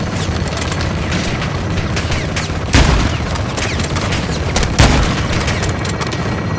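Air strike explosions and gunfire in a Call of Duty: Modern Warfare 2 cutscene, a dense continuous barrage of rumbling blasts and crackling shots with two sharper, louder booms standing out partway through.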